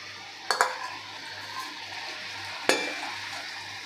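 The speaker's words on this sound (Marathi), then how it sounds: "तेल छान असं गरम झालेलं आहे आता यामध्ये आपल्याला चकली सोडायची आहे" Jowar chakli spirals slipped into hot oil on a medium flame: two sharp clinks of utensils against the pan, followed by a soft, steady frying sizzle.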